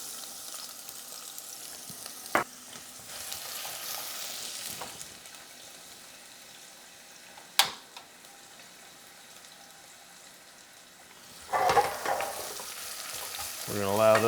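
Sliced onions frying in beef tallow in a pan, giving a steady low sizzle broken by a few sharp knocks and scrapes as they are stirred, with a brief louder burst of activity toward the end.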